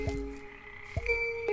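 Tonal, croaky musical notes sounded by playing a monster's teeth like an instrument in the video game GNOG, three short plucked tones over a sustained humming drone, close and clear with no talk.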